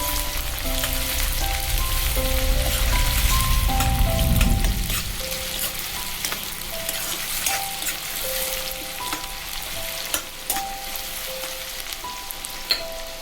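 Sliced onion drops into hot oil that has already browned, with a loud burst of sizzling at first that settles into a steady, crackling fry with occasional spatters and pops.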